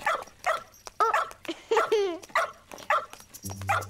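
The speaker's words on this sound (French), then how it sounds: "Pas de panique, c'est le chien de Madame Ours Blanche" A cartoon dog from Petit Ours Brun yaps and barks in several short, excited bursts. The barks are mixed in with lively animated character voices speaking French.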